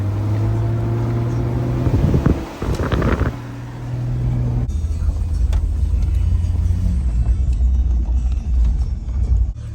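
A lifted Jeep is driven, its engine rumbling steadily with a low hum and road or wind noise, a brief louder rev partway through, then continuing as an even drone.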